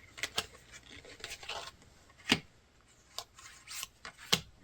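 Scratchy rasping bursts of a cat clawing, irregular and close, separated by short quiet pauses.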